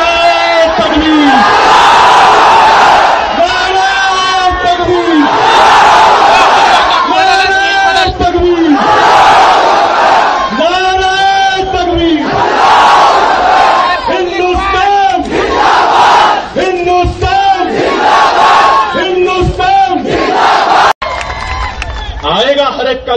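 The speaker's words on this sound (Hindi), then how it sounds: "जोरदार नारा लगाओ, नारा तकबीर" A large rally crowd chants the Takbir slogan in loud, repeated call-and-response bursts, with massed voices swelling rhythmically again and again over the full stretch.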